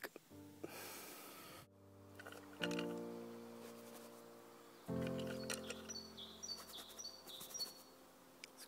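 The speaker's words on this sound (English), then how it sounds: "Oh, you hear that bird?" A small bird chirps and tweets in short bursts in the woods, fairly distant and faint, alongside a few nearby rustles and quiet breathing sounds from someone sitting outdoors.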